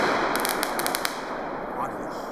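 TXR738 5XL firework rockets explode as a rapid string of sharp crackling bangs, followed by a lingering rushing hiss.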